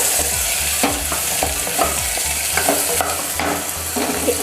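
Onions, garlic and curry leaves sauté with bitter gourd in a pan over a full flame, a loud steady sizzle punctuated by repeated stirring scrapes.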